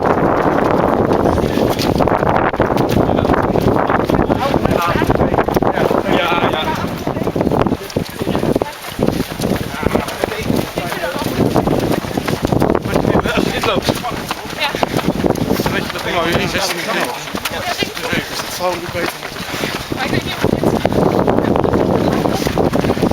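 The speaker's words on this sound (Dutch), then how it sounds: "dit is allemaal wind mee" Wind buffets the microphone during a Dutch countryside walk, a loud, constant rumble and roar that gusts throughout, with people talking intermittently beneath it.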